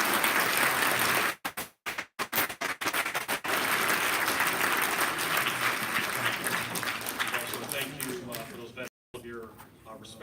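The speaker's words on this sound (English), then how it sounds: "a round of applause again for our veterans here" A school Veterans Day assembly crowd gives veterans a round of applause: dense, sustained clapping that briefly breaks up early on and then fades toward the end.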